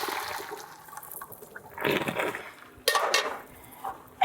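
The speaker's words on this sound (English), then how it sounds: "Drain our shortcut pasta." Starchy water from cooked short pasta pours out of a pot into a drain in a home kitchen, a steady rushing splash that swells in two bursts with clattering of the pot.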